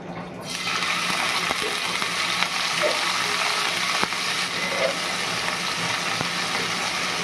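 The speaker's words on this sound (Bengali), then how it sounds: "এবার আবারও একটু রিফাইন অয়েল দিয়ে দিচ্ছি। এবার কি প্রনগুলো তো ভাজতে হবে।" Prawns frying in refined oil in a pan, giving a steady, loud, continuous sizzle that carries on unbroken throughout.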